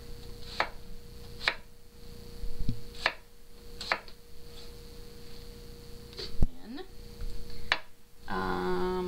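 A knife chops half an onion on a cutting board in a series of crisp, evenly spaced chops, close and fairly loud over a faint electrical hum, ending with a brief scrape.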